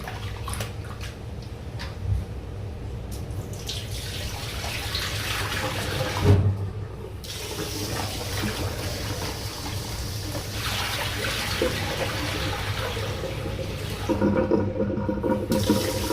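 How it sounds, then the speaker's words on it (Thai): Sushi rice being washed in water, with steady running and sloshing water from a tap or sink continuing throughout, close and fairly loud, without talk. "ล้างจนน้ำซาวข้าวใส ๆ นะคะ"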